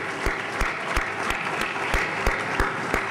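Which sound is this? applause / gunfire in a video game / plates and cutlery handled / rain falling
applause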